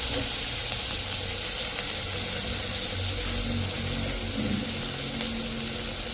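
Ingredients sautéing in a pan while a fish curry is cooked, a steady broadband sizzle running the whole time with some low background rumble and noise.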